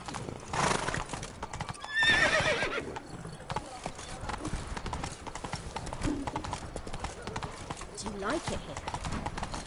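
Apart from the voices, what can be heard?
horse Roach ridden in The Witcher 3 video game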